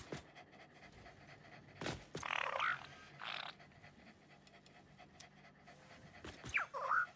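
A dog pants in the game Satisfactory, a few short breathy bursts close up, separated by quiet stretches and faint background hum.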